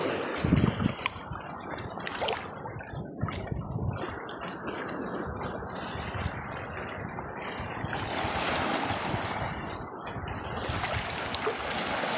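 Ocean waves crash and push in a steady, broad wash of surf that swells and recedes for the whole stretch, with some low rumbling from churning water close by.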